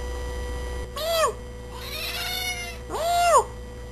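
A pet cat meows twice, fairly close and clear, with a short gap between the two calls over a quiet indoor background.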